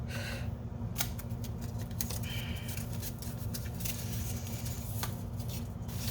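Repeated crisp snips and rustling as strips of tape are cut and handled for a paper mache armature, steady close clicks over a constant low background hum.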